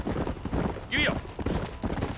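Horse hooves trotting in the Red Dead Redemption video game: rhythmic clip-clop mixed under ongoing conversation, with a brief whinny-like squeal in the middle.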